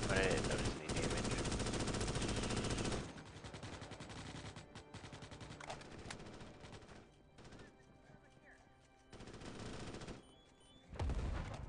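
Close, sustained machine-gun fire in Starship Troopers, with long rattling bursts broken by short pauses and a final loud burst, while a voice talks faintly underneath.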